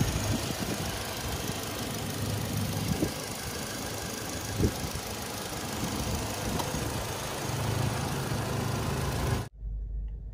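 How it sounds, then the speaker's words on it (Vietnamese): A 2017 Toyota Fortuner with a petrol engine and automatic gearbox idles steadily at close range, a smooth, even hum with no rough surges for about nine seconds before cutting off abruptly. "Toàn bộ máy nổ không rung lắc gì"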